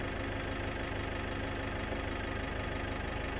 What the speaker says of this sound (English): the tractor can go on and warm up a little bit.